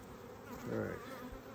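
Dense, steady buzzing of honeybees swirling around an open hive during a strength check, a continuous close drone that swells briefly mid-clip, with no speech.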